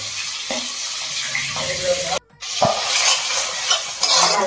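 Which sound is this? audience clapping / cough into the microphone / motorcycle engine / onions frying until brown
onions frying until brown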